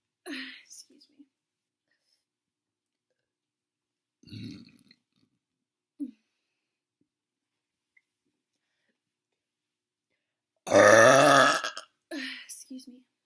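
A woman releasing loud burps: a few short, quiet belches and whispers spread across the clip, then one long, loud burp near the end and a shorter one after it, with stretches of silence between.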